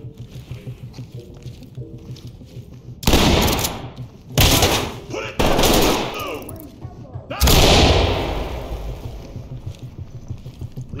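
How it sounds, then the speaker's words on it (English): In the tactical shooter Ready Or Not, loud shotgun blasts breach a locked door and flashbangs go off, a series of heavy explosive bursts with ringing decay, following quieter game ambience and faint radio-style talk. "Use the shotgun on the door, then clear it with bangs."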